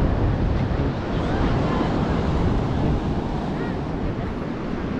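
Continuous surf and gusting wind roar over a busy sunset beach at Petitenget, Seminyak, Bali, with waves washing in steadily and wind buffeting the microphone; faint crowd voices sit under the noise.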